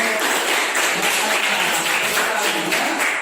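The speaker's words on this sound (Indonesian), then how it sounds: "Tepuk tangan untuk Mahes." A classroom audience applauds with steady, dense clapping that holds at an even level throughout, close and fairly loud.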